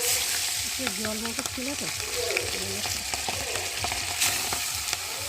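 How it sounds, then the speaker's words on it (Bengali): Pabda fish frying in hot oil, a steady crackling sizzle running throughout beneath a woman's intermittent speech and melodic voice. "আমি এখন মাছটাকে ভেজে নিই"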